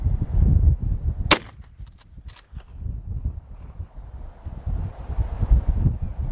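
A single sharp, loud report from a .357 Magnum lever-action rifle fired at a long-range target, followed by a brief echo and then gusting wind noise.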